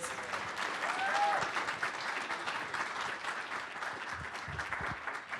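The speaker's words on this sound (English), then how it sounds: "Let's give them another big round of applause." A big round of audience applause at a civil rights and religious freedom conversation event, dense steady clapping filling the room for several seconds with no voices over it.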